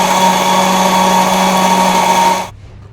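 A mixer grinder whirring steadily in a kitchen while chicken curry is prepared, a loud constant motor drone that cuts off abruptly near the end.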